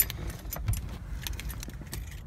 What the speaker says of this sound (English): Can't lose these keys.